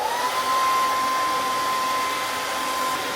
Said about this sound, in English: You put the dryer inside of there, the blow dryer, tighten it up and turn it on.